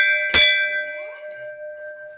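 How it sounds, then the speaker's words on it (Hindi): A metal temple bell at a Sheetla Mata shrine is struck once, close and loud, its clear ringing tones sustaining and slowly decaying over the following two seconds. "घंटी"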